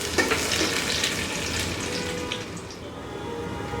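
Finely chopped garlic frying in about one and a half tablespoons of hot oil, a steady close crackling sizzle with bright spattering that eases slightly toward the end.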